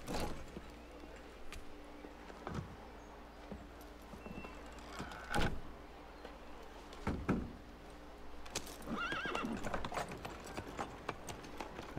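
In the Assassin's Creed game, horse hooves clip-clop faintly on hard ground, with scattered thuds, a horse's snort or whinny and quiet ambient noise in the stable yard.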